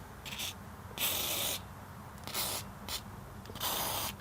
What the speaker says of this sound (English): So I'm going to lubricate the solenoid here and the pins up here.